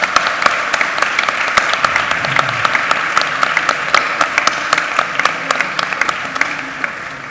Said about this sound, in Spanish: Creo que merecéis un aplauso